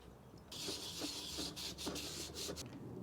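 A fired ceramic bowl is scrubbed in repeated rough strokes, a broad rasping rub starting after a short pause and continuing with brief breaks, close and alone.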